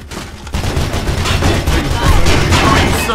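Rapid machine gun fire from an LMG in the Mirror's Edge video game, a dense, continuous burst of loud, close gunfire lasting a few seconds after a brief quiet start.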